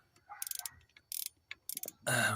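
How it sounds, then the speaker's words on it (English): An 8mm ratchet undoing E10 screws on a Mercedes C220, heard as short bursts of quick clicking pawl ticks in close, quiet surroundings. "ratchet there, just to get it open"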